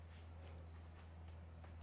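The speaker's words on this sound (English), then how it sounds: "Got Jiminy Cricket back there." Cricket chirping in the background of a shop during a ceramic coating job on rust, three thin high trills spaced about half a second apart over a steady low electrical hum.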